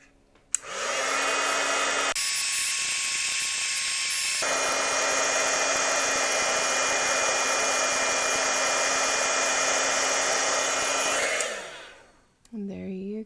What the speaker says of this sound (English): I'm gonna set it with the heat tool.